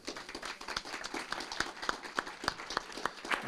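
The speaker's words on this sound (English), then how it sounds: "One more big round of applause, please." Applause at a city council meeting comes through as a small group of scattered, fairly quiet claps, individual hand strikes distinct and irregular rather than a full ovation.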